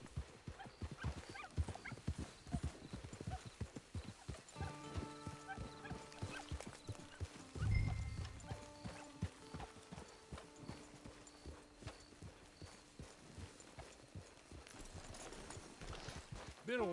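Horse hooves clip-clop steadily on the ground at a camp in the video game Red Dead Online, faint and close, with brief tonal game sounds and other animal noises mixed in.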